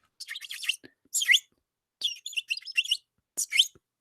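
A man imitates bird chirping with his voice, giving four short bursts of high, rapid tweets separated by brief silences, close and fairly loud.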